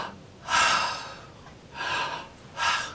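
Three slow, deep breaths drawn close to the microphone, each a broad airy rush lasting about half a second to a second with quiet gaps between, steady and unhurried.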